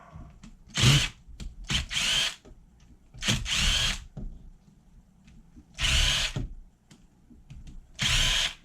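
A power drill backs screws out of a nitro RC car's engine block and transmission area, sounding in several loud whirring bursts of about a second each with quiet pauses between them, up close.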